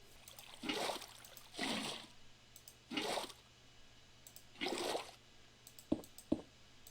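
Water placed from a bucket in Minecraft, heard as four soft, separate whooshing splashes spaced about a second apart, followed by two short sharp clicks near the end.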